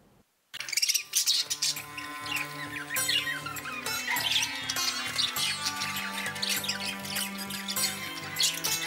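Dense, continuous bird chirping and tweeting from many birds at a purpose-built bird housing complex with feeding and bathing areas in Ghaziabad, loud and busy throughout after a brief quiet start.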